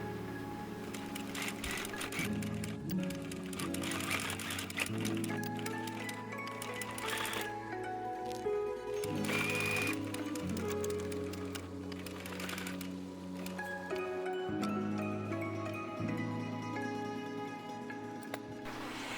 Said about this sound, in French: nous allons coudre l'extrémité du piment